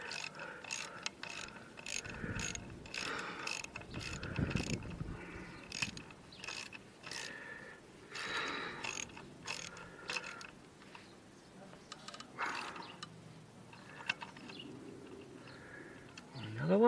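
A ratchet spanner tightens a bolt on a Triumph Trident motorcycle's belly pan, giving a series of quick, close mechanical clicks in short bursts with brief pauses between them.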